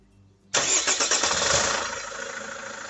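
A 2013 Chevrolet Captiva FL1's engine cranks briefly with a rapid chugging pulse, then catches and settles into a loud, steady idle that eases slightly in level.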